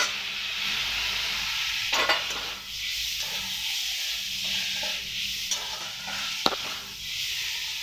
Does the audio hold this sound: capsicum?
yes